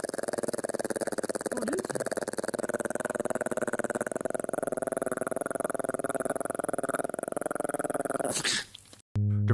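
A vicious dog growls in a long, steady, rumbling snarl, close and continuous, during an attack. The growl cuts off abruptly near the end, followed by a brief burst of other noise.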